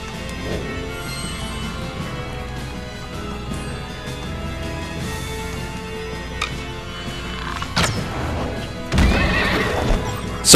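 Horses neigh and whinny with clip-clopping hooves during a boss fight in the video game Child of Light, set over continuous game music, with louder bursts of whinnying near the end.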